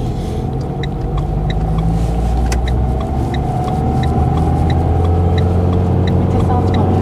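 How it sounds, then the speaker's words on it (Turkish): A learner driver's car revs loudly in a low gear during a hill-start lesson, a steady close engine roar with a rising, strained tone and no gear change heard throughout. "Vites atmıyorsan araba bağırmasın"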